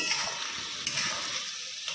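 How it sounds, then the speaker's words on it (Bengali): Red amaranth leaves fry in a pan with a steady, moderately loud sizzle and soft crackle, a few stirring clicks near the start, easing slightly toward the end. "এখানে লাল শাক ভাজা বসিয়ে দিয়েছে"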